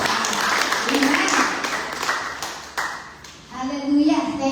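Applause from a church congregation during a Filipino midweek worship service, a loud dense wash of clapping that carries on throughout, with voices mixed in and a brief ringing tone near the end.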